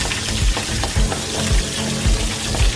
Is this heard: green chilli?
yes